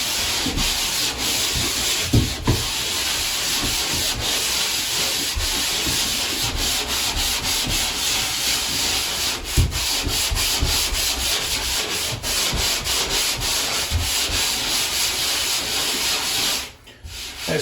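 Steady, close scraping of a sanding block or pad over thick dried drywall joint compound, smoothing ridges along an edge during a mobile home restoration, continuous and alone with a brief pause near the end.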